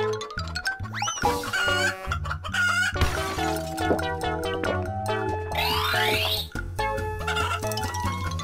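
A chicken clucks and calls over a bouncy, loud children's painting-game tune, with a rising squawk near the start and chiming effects throughout.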